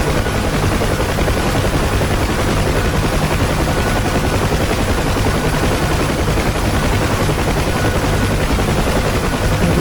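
A UH-1 Huey helicopter flying in the DCS flight simulator, its rotor and turbine making a loud, steady, unbroken whirring drone with no variation throughout.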